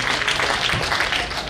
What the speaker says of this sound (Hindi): आप बजाओ तालियां।